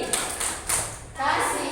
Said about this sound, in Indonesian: Kasih tepuk apresiasi